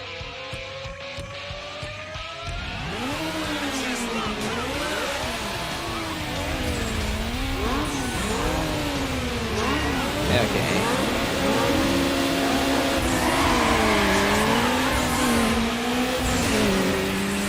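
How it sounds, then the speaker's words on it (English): Several race car engines rev hard together at the starting line in Need for Speed: Underground, pitches rising and falling in overlapping sweeps, loud and close, with a voice speaking over the roar. "I do like how loud the cars are on the starting line."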